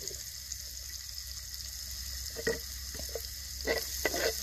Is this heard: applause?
no